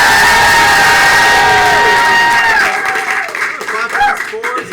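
Loud, close studio-audience applause at a live comedy show, packed with cheers and whoops, then tapering off into lighter clapping and scattered shouts.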